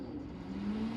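Steady, faint whir of a welder's cooling fan in a workshop where a 1967 Mustang is being welded, a constant low hum with a slight rise in pitch and no talking.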